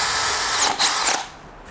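A drill bit countersinking a screw hole, a steady high whine for about a second and a half with a brief dip partway, then stopping.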